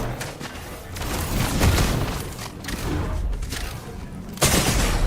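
Gunfire in Fortnite during a live Blitz match, a dense rumble of shots and booms with a sharper burst near the end.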